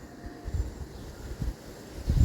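Wind buffets a phone microphone outdoors in a calm rural spot, a low rumbling flutter that swells in uneven gusts for a couple of seconds, loud and close, with no talking.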